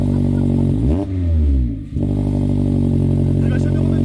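Mazda MX-5 ND engine fitted with a BBR exhaust silencer, revving loud and close, its deep droning tone rising and falling twice over a steady idle.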